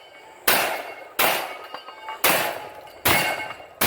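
Four loud shotgun blasts at a practice-style shooting competition stage, each a sharp broadband crack with a short decaying tail, spaced roughly evenly about a second apart in quick succession.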